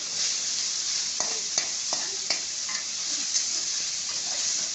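Steady, bright sizzling of chicken frying in a pan, with a few faint clinks and stirring taps throughout, no voices.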